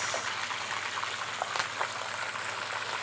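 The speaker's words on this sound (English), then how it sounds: "That sound of fried chicken." Chicken frying in hot oil gives a continuous bright, crackling sizzle, fairly quiet and steady throughout with small pops scattered over it.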